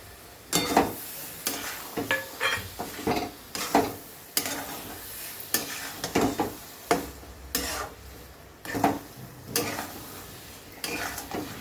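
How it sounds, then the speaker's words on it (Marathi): A spoon stirs eggs into sizzling egg biryani gravy in a pan, with rhythmic scraping strokes every second or so over a steady low frying hiss, close and fairly quiet. "आता याच्यामध्ये अंडे घालून देणार आहे."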